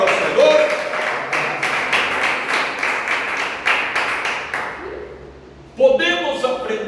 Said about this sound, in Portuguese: Quem bate palmas da glória ao Senhor?